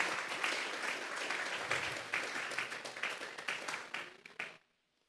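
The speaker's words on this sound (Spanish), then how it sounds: "Vamos a regalarle ofrenda de palmas al Dios de la gloria." A church congregation applauding during a sermon, a thick wash of many hands clapping steadily for several seconds before tapering and stopping abruptly into silence.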